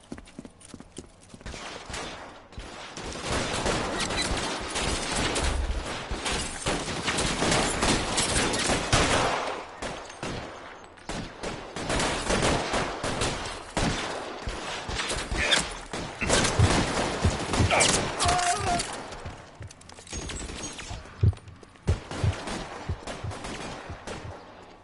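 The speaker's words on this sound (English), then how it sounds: "Bullets start flying" Gunfire from a shootout in L.A. Noire crackles in irregular bursts over busy game ambience, loud stretches alternating with brief lulls and scattered sharp single shots.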